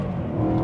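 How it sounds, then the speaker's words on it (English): A car launches on a 0 to 60 acceleration run with tire spin, giving a loud, close, continuous engine roar in a single brief burst with no talk. "First 0 to 60 run. And a lot of tire spin."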